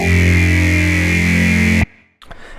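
Synthesizer Neuro layer of a Neuro Phase dirty bass patch, a loud, thick, distorted sustained bass tone that cuts off abruptly, followed by a brief gap and a faint tail.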